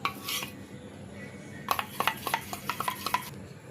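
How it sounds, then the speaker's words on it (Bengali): Cornflour mixture being mixed in a bowl, with a quiet scrape at first and then a run of quick, bright clinks and taps of utensil on bowl, close and clear with no talking. "এবার এটাকে ভালো করে মিক্সড করতে হবে।"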